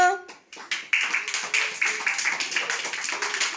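Children clap their hands together in fast, even rounds of close claps after a brief spoken moment, with voices heard alongside the clapping.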